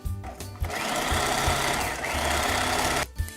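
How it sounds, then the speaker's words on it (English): A sewing machine runs a side seam on a girl's dress, its fast needle chatter steady and close for about three seconds, starting and stopping briefly at each end with no talking. "with right sides of the fabric together, just sew right down that side"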